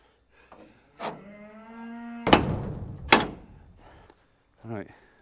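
Cattle moo near a water tank at midnight, a long drawn-out low call followed by a second shorter moo, with clanks and knocks from a gate or metal fittings in between and a quieter grunt at the end.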